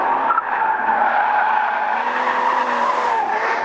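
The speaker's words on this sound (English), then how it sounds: "So what's happening is you get a lot of liftoff oversteer mid-corner." Tires of a 2013 Porsche Boxster S squeal as the car slides in liftoff oversteer mid-corner, a loud, sustained, wavering screech of rubber held for several seconds with engine noise underneath.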